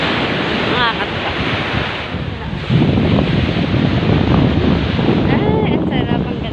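Strong ocean waves wash onto a beach in Japan, a loud continuous rushing surf with wind buffeting the microphone and a swell of breaking water midway, faint voices briefly in the background.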